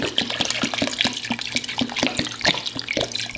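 Liquid, apparently Coca-Cola, pours into a dish of pork ribs with a steady splashing stream and faint rhythmic tapping, close and unaccompanied by talk.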